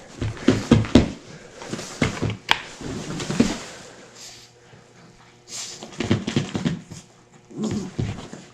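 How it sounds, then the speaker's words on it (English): Puppies whimpering and playing nearby, giving soft whines, snorts and pants in scattered bursts with quiet pauses between them. "Oh, puppies are fun."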